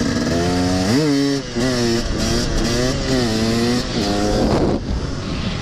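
A KTM 250 two-stroke Six Days enduro motorcycle engine revs hard and loud up close, with repeated rising and falling throttle blips and a raspy buzzing tone throughout.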